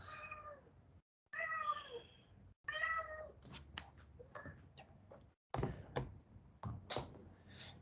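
A cat meows several times up close, drawn-out wavering calls broken by short pauses, with a few sharp clicks and knocks in between and no talking.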